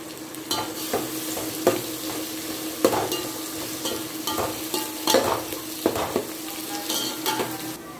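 Onions sautéing in hot oil for a Tamil fish curry (meen kuzhambu), a steady sizzle with repeated sharp scrapes and clacks of a stirring spoon against the pan, close and continuous.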